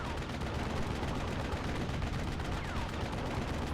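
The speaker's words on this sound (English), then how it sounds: "Mortar teams firing." Mortar teams firing in Steel Division Normandy 44, a steady, dense roll of distant gunfire and thudding shots under a continuous battlefield rumble, fairly faint, with no voices.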